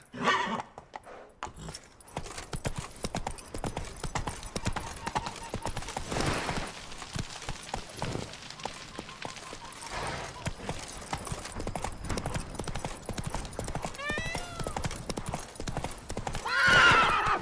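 In the video game Witcher 3, a horse gallops with steady, fast clip-clop hoofbeats throughout, neighing loudly near the start and again near the end, with a voice speaking briefly over it.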